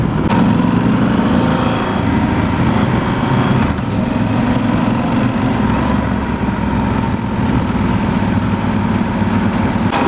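A 2016 Yamaha Super Tenere XT1200Z motorcycle engine drones steadily while riding in touring mode, a loud, continuous mid-low hum mixed with road and wind rumble, with no talk.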